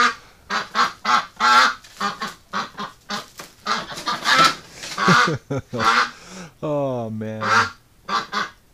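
A duck held in a pen in winter lets out a run of loud, close honks and harsh quacks in rapid bursts, with a brief spoken exclamation between calls.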